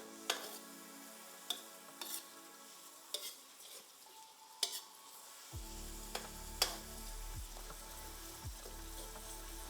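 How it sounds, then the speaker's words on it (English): Stir-fried beans sizzling steadily in an oil-filled pan, a soft continuous crackle with occasional sharper pops and clinks, close and moderately quiet with no talking. "I'm just going to let this fry for a bit. I want it to get caramelized."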